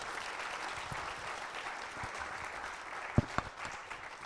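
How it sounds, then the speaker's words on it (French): Faint, distant audience applause at a French research awards ceremony, a soft continuous patter of hands with a couple of sharper claps standing out near the end. "on peut applaudir très fort"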